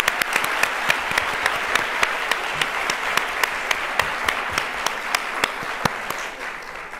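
Large audience of about a thousand young people applauding at a book fair on a rainy afternoon, a dense, steady wall of clapping with a few sharp nearby claps standing out, sustained before tapering slightly at the end.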